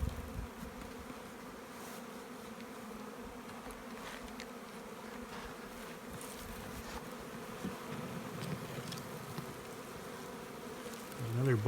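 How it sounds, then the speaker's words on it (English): Honey bees buzzing steadily inside a nuc box, a dense continuous hum heard close up with no talking. "This is a box of bees."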